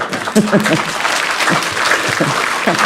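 Audience at a Buddhist sutra lecture clapping in an uneven, scattered way, with distinct claps among a thinner background, while voices and laughter break in over the top.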